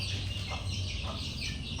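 Backyard chickens, hens with their chicks, cluck softly and continuously amid a steady background hum, with a few brief louder calls rising out of the murmur.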